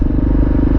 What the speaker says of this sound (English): This is why I came here specifically, is just to kind of rev this bike up.